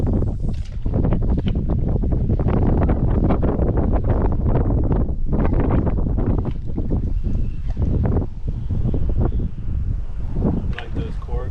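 A strong southwestern wind sweeps across a winter marsh, buffeting the microphone with continuous loud, gusty rushing that never lets up for the whole stretch.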